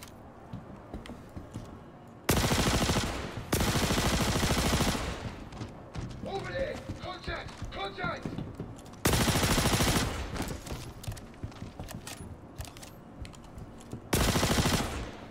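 Gunfire in Star Citizen, heard as three loud bursts of rapid automatic shots, each lasting roughly a second, separated by quieter stretches of background game noise and faint clicking.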